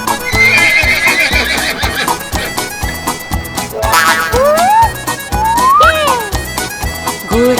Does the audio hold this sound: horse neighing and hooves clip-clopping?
yes